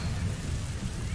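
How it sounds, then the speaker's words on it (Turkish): A storm rolls in within MGS V: The Phantom Pain, giving a steady, loud wash of rain or wind-like noise with low rumbling underneath. "Helikopter çağırınca başlayan fırtına mı olur ya?"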